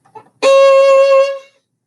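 A bowed string instrument plays a single sustained note on an up bow drawn from the tip, entering after a faint brief scrape and holding steady and clear for about a second before fading.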